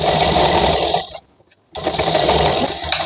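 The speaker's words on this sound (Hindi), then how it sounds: "आप चाहिए तो यहाँ पे एक सिलाई चला दीजिए" A sewing machine stitches a seam on a ladies' trouser in two loud, fast, whirring runs separated by a short silent pause.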